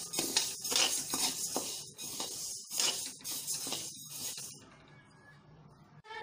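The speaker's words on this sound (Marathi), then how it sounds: "मस्त मुगाची डाळ आणि उडदाची डाळ भाजून झालेली आहे" Moong dal and urad dal dry-roasting together in a pan, with close, busy scraping and clinking of a spatula or spoon against the metal in quick irregular strokes, thinning to quieter rattles toward the end.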